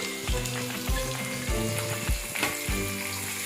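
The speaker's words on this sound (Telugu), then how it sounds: "ఇవన్నీ కూడా మీడియం ఫ్లేమ్లో వేయించుకోవాలండి పచ్చి బఠానీలు వేసుకుంటామండి" Green peas sizzle steadily in a pan over a medium flame for soya chunks biryani, with a utensil scraping and knocking in a regular rhythm about every half second, close and without talk.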